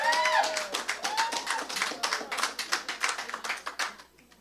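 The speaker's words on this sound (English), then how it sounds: "hear your applause" Individual claps ring out at a Labour Party launch event in St Kitts and Nevis, distinct, fairly quick and irregular, thinning and fading toward the end, with brief voices early on.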